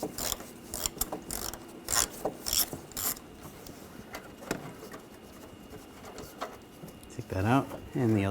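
Ratchet with a 10mm socket backing out bolts on a 2013-2019 Ford Escape front bumper cover, rapid clicking in repeated short bursts, close, with a voice speaking at the end.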